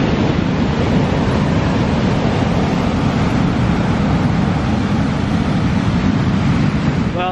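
Breezy wind and surf at Rockaway Beach roar steadily and loudly for the whole stretch, a constant wash of wind buffeting and rolling waves with no pauses and no talking.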